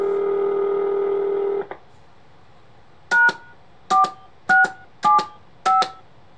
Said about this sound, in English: we have to press pound and then the system access code